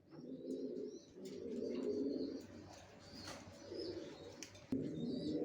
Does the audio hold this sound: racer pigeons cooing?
yes